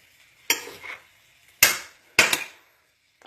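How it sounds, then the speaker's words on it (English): Onions and tomatoes being stirred in a pan on the stove, four sharp clanks of a utensil against the pan spaced irregularly, each trailing into a brief ring, close and loud with quiet gaps, no talk. "So now I'll just mix this up."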